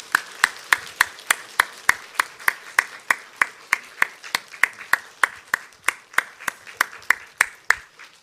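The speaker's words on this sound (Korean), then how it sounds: "우리 수고를 위로하고 격려하는 마음으로 또 축하하는 마음 박수하겠습니다." A church congregation applauds during a Sunday morning service, a steady run of crisp, evenly spaced claps about three per second that keep going for the whole stretch, with a little faint murmuring behind.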